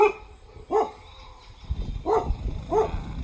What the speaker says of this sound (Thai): เห่าคนมา เก็บขยะ